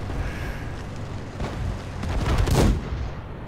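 A tank gun fires in World of Tanks, a single loud booming blast that swells and fades over a few seconds amid battle rumble.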